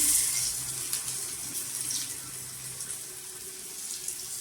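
Brinjal slices, one after another, go into hot oil for vangyachi kapa and fry with a steady close hiss and sizzle that holds throughout, with no talking.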